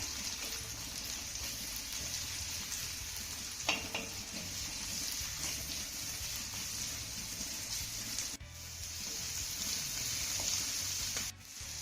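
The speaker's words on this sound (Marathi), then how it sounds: "आता हा कांदा आपल्याला चांगला मौसूद होईपर्यंत परतून घ्यायचा आहे" Finely chopped onion being sautéed in a pan on the stove, a steady low sizzle and hiss with occasional scraping and stirring sounds, no speech.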